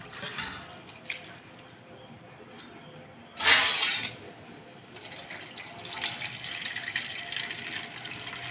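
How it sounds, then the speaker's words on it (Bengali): Sago pearls rinsed in a bowl of water for laddu, soft sloshing and trickling throughout, with a brief loud splash of pouring water midway and steadier swishing afterward. "সাবুটা দুবার আমি ধুয়ে নেব ভালো করে।"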